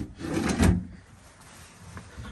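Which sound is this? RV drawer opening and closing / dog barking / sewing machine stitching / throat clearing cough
RV drawer opening and closing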